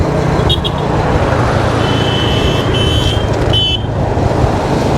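Road traffic on Phu Quoc Island rushes past a moving motorbike as a loud, continuous wind-blown roar of engines, with a few brief high horn toots from nearby vehicles scattered through it.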